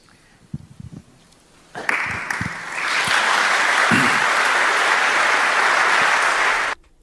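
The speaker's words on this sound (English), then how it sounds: "Round of applause" Audience applause at a debate on the mind and consciousness: a few isolated knocks, then clapping swells into a loud, dense, sustained ovation before cutting off sharply.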